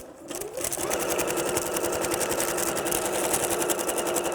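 A sewing machine set to its fast rabbit speed stitches in a steady, rapid whir that starts after a brief pause and runs loud and continuous, close by, with no talking.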